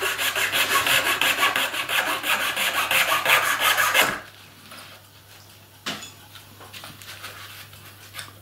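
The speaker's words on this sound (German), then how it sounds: "Ich schneide das kürzeste Stück zuerst ab." A short piece being sawn off for a Busch field-railway model layout module: about four seconds of rapid, steady back-and-forth sawing strokes, close and loud, then quieter handling clicks.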